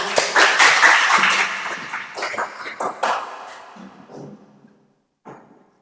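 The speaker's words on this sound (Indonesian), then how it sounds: "Tepuk 3 kali, semangat" Students in a classroom clap in a short burst of rhythmic claps, loud and close at first, then trailing off into scattered taps and near silence, with a brief voice near the end.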